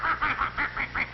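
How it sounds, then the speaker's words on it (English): Geese honk in a rapid run of about six loud, nasal calls, close by and without talk, in an agitated barnyard scene. "The geese flapped their wings angrily"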